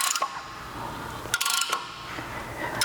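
A rear brake caliper on a 100 Series Land Cruiser is worked back into place, giving faint mechanical clicks and a short metallic rattle in quiet surroundings.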